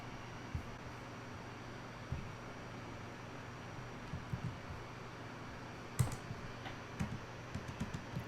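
Soft, irregular keystrokes tap on a computer keyboard while code is typed, faint and scattered over a steady background hiss, with a brief cluster of clicks near the end.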